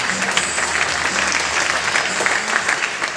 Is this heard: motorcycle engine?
no